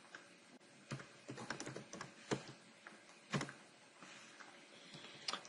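A computer keyboard is typed on at an irregular pace, with faint clicks and a few louder keystrokes as a command is entered in a quiet room, and no one speaks.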